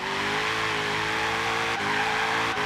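A custom Ford Mustang GT350 drifts in Forza Horizon 3, its engine holding a loud sustained rasping drone with tire squeal layered over it, briefly dipping and catching twice in a continuous close roar.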